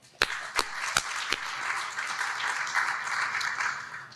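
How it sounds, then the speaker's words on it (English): A dinner audience at a think tank summit applauds, a few sharp early claps swelling into sustained, fairly distant applause that fills the hall until the end. "So I want to give all those folks a round of applause."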